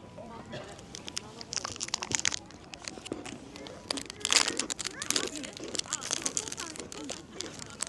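Chocolate cookie studded with crunchy cookie bits being bitten and chewed close up, giving crisp crackly crunches that repeat through the clip, with someone talking over them.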